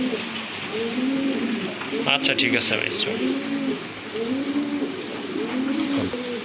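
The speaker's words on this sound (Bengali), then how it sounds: "আরেক জোড়া কবুতর দেখতে পাচ্ছেন মুন্ডিয়ান অনেক বড় সাইজের কবুতর" Large Mundian pigeons cooing repeatedly in a rhythmic, close, throaty series in a pigeon-selling setting, with people talking over them.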